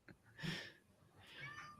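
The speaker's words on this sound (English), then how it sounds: "And there's a cat somewhere." A house cat recovering from kidney surgery gives a couple of faint, distant meows in quick succession, heard quietly in the background of a room.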